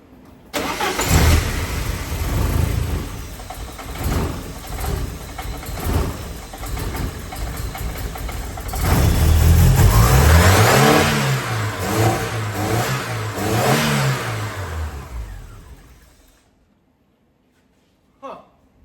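A Porsche 944 engine with a fault that stops it idling and revving above 3000 rpm revs up and down repeatedly, loud and close, rising and falling in pitch before cutting off, with a brief knock near the end.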